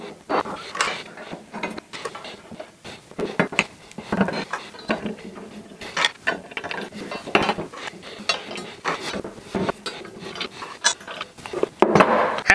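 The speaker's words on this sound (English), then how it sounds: "throw a bolt in there, and then just hand tighten this nut" A metal bolt and nut being hand tightened while assembling a machined shop stool: close clicks, small metallic rattles and ratchety ticks in irregular bursts, no talk.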